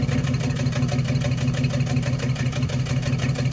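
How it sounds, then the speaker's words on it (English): A 1994 Chevy S10 Blazer's 4.3 V6 idles roughly with a misfire, a loud close engine rumble that pulses unevenly with no talking. "Still misfiring."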